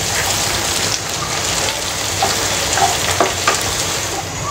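Coarsely crushed garlic cloves and a piece of ginger frying with onions in a pan for Punjabi rajma masala, giving a steady, dense sizzle with faint crackles throughout.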